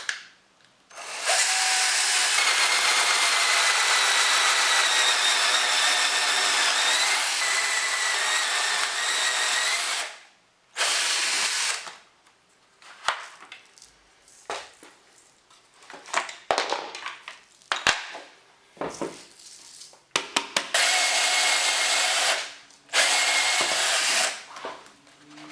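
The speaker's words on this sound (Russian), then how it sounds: "Я буду сверлить отверстие с помощью данного кондуктора" A power drill bores dowel holes through a doweling jig while a wall shelf is built, whining loudly in long steady runs separated by pauses full of clicks, knocks and handling clatter.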